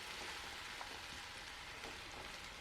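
Spices with asafoetida frying in a kadhai for chana saag, a steady, continuous sizzle and crackle throughout, even and fairly faint with no talking.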